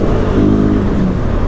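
Motorbike engine pulling hard on a Sunday ride in India, a steady low rumble that swells slightly as it revs, close and continuous for the whole moment.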